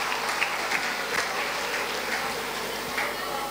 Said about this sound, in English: Let's give them a clap for.